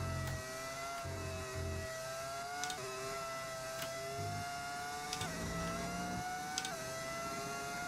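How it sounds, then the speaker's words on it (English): Racing engine of a Lamborghini F1 car in the F1 25 video game, a steady high whine rising and falling through gear shifts, with sharp upshift clicks along the way. "Classic engine sound is pretty good, isn't it?"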